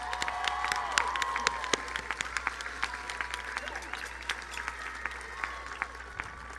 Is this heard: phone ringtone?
no